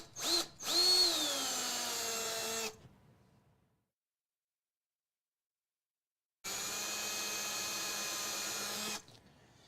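A power drill bores pilot holes into the wooden frame of a 5 x 7 foot rug tufting frame, two separate loud bursts of steady whirring, each about two to three seconds long, with a quiet gap between.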